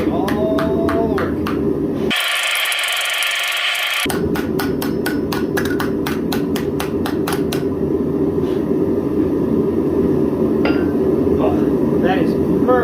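Rapid, steady hammer blows ring out on metal over a gas tank swage block, a loud repetitive clanging with a short pause partway through, and a voice is heard in the background.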